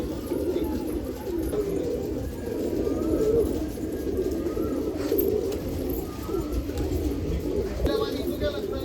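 Pigeons coo steadily at a pigeon festival in Nashik, a dense, continuous murmur of calls that fills the whole stretch with no clear breaks.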